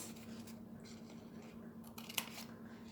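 Scissors snip through pieces of material in a few quiet, close cuts, with a small sharp click near the end.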